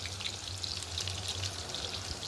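Food lightly frying in a pan over medium-low heat, a quiet steady sizzle with soft crackling and popping, alone with no talking, with a low hum underneath.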